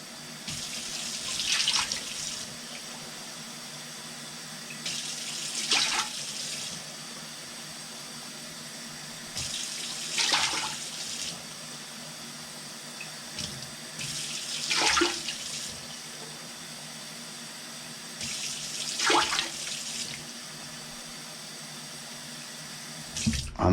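Cold tap water gushes into a cooking pot in five separate bursts, each a few seconds long and spaced about four seconds apart, with quiet stretches between and no talking.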